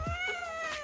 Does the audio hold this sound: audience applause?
no